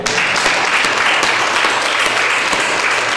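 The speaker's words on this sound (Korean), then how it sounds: "우리 하나님께 영광의 박수를 돌리기로 합시다." Congregation applause at a Korean Sunday church service, a dense, steady wash of many hands clapping together, loud and close, filling the moment without a break.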